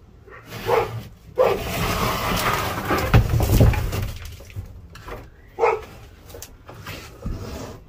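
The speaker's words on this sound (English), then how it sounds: "Sorry for the dog barking in the background." A neighbor's dog barks in the background during outdoor trailer repair work, giving several separate barks spread across the stretch, moderately loud, among other scattered work noises.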